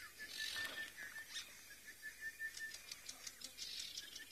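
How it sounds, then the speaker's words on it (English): Babblers call on a safari live stream in the African bush, a faint scattered chatter of short chirps and clicks against quiet background hiss, with no voices. "the babblers are now making a bit of a noise as well"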